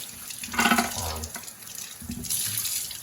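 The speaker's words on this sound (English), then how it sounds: "It's important to wash these off and back flush them one more time." Tap water rinses dirty milking equipment at a homestead, a close, steady splashing and gushing that swells and fades twice as the pieces are moved under the flow.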